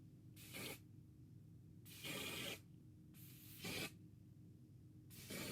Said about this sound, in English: I'm going to prefer to use hairspray